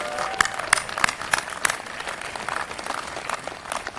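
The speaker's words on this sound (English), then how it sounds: "So let's give him a great round of applause for his work." Scattered, thin applause from a ceremony audience honoring a retiring man at a Christmas tree event, with sparse individual claps at a moderate distance.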